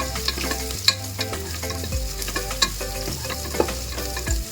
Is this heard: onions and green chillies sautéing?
yes